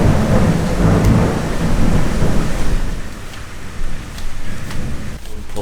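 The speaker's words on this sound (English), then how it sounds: "We got woken up by like an intense, crazy-ass thunderstorm." Intense early-morning thunderstorm: heavy rumbling thunder rolls loud and close at the start, then gives way to steady hissing rain on surfaces with scattered drips.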